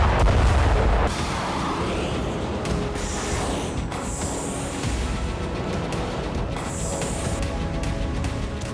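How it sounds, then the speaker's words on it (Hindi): Missile strikes launched by Yemen's Houthis over the Red Sea, in news footage: a loud, continuous roar of booming blasts and sharp cracks, heaviest at the start, with repeated bursts and no talking. "इस बैलिस्टिक विस्फोट को देख लीजिए।"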